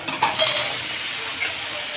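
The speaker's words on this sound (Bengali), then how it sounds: "এবার আমি বেগুনগুলো দিয়ে দেবো।" Eggplant pieces go into a hot pan of frying bamboo-leaf dried fish, giving a steady close sizzle and hiss with a few brief stirring clinks near the start.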